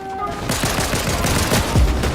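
Pump shotgun fire in the video game Fortnite: a close, rapid burst of several loud gunshots in quick succession, with no talking.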